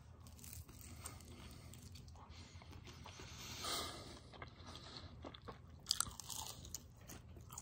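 A crunchy Greek style chicken wing dipped in tzatziki is bitten into close up, giving crisp crackling crunches followed by wet chewing, with a couple of sharper cracks near the end and no talk.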